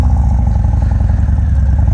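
A 2019 Harley-Davidson FXDR 114 fitted with a Bassani Road Rage exhaust rumbles loud and close on a ride, a deep steady throbbing drone with a slight rise in pitch.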